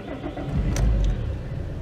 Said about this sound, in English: give it 10 seconds, and then we're going to start the car up.